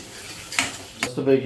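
A spoon scrapes and stirs egg curry masala in a pan, with a few short clinks and rasps against the metal over a low sizzle, close and fairly loud.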